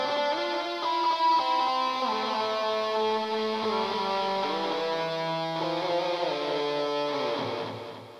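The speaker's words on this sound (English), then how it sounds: "a ping pong delay" An electric guitar played through a Line 6 HD147 amp with ping pong delay sounds sustained chords and notes whose echoes bounce and trail off into a fading tail.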